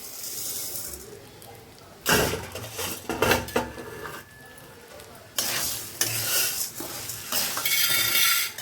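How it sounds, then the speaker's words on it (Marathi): Sago pearls are stirred in ghee inside a wok on medium heat, a soft scraping and rustling that swells in three louder bursts with faint sizzling between them and no talk. "हे मी या कढईमध्ये घालते या साबुदाणा"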